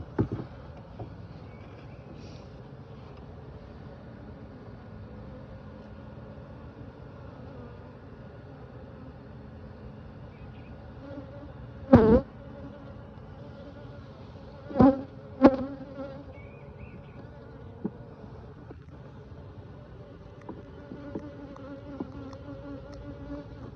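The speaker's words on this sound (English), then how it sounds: "We got some bees." A steady, dense buzzing of many bees fills the air, with a few brief knocks and thumps standing out now and then.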